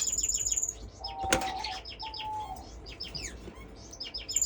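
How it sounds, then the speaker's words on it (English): Several baby parrot finches chirp in quick, high, overlapping calls at close range, with brief quiet gaps and other birds faintly in the background of a bird room. "4 babies, parrot finch"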